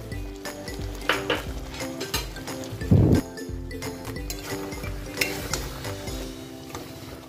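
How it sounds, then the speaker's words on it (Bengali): Poppy seed paste with tomato sizzles in a pan while being stirred, with scraping and clattering utensil knocks and one louder clunk over a steady fry, close, without talk. "এবার পোস্ত বাটাটা দিয়ে দিলাম"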